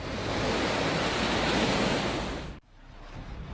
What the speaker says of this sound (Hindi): समंदर का शोर सावधान कर रहा है